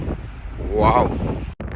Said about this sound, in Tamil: நடுக்கடல், நல்ல காற்று, செம்ம காற்று